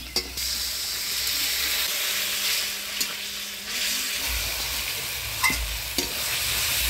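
Spiced masala paste stir-fried in oil for a rohu fish kalia, a steady sizzle broken by several sharp scraping strokes of the spoon, close and continuous with no speech.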